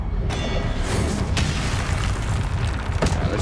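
A Confringo fire spell explodes in the Hogwarts Legacy video game amid a dense, loud roar of blasts and whooshes, with sharp bursts rising out of the constant battle noise.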